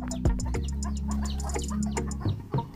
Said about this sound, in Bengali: মুরগি এসে ভর্তি হয়ে যাচ্ছে